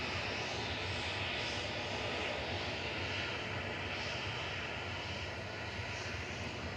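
A TUI jet lines up for departure to Chambéry at Manchester Airport, a continuous broadband engine roar holding level throughout, moderately distant and steady with no voices over it.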